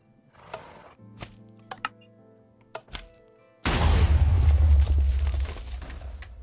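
A TNT blast from a compact redstone cannon in Minecraft: several soft clicks and thunks lead into a sudden loud, deep explosion that rumbles and decays for a few seconds.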